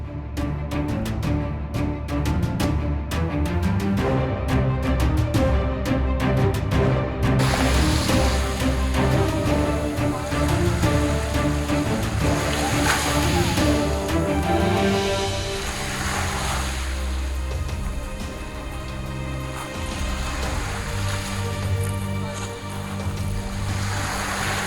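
Surf washes steadily into Cala Salada cove on Ibiza, a continuous broad rush of waves mixed with gusty wind buffeting the microphone throughout.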